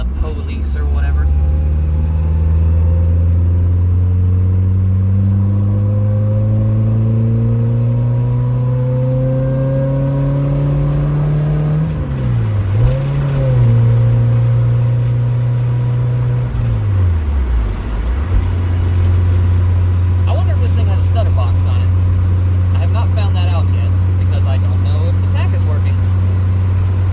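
A Nissan 240SX engine revs up steadily while accelerating in first gear, pitch climbing, then dipping and settling into a loud, close drone.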